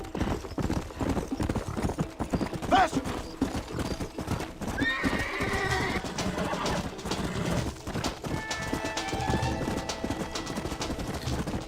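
A horse galloping in Red Dead Redemption on Nintendo Switch, with rapid continuous hoofbeats throughout and neighs mixed in, set against game ambience and birdsong.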